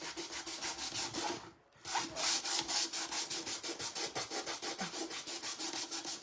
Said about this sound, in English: And then I'm just going to use my sandpaper in case there's any spots that I missed.